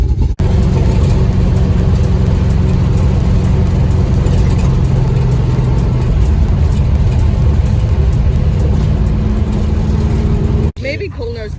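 A drag race car rolls toward the Cordova track, its engine droning loud and steady with a rough low rumble throughout, a voice talking over it.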